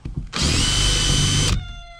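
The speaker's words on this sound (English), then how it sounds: "I can just drill that out." A power drill whirs loudly for about a second, grinding steadily through a metal rivet on a Boler trailer at close range, then stops, leaving a faint ringing tone.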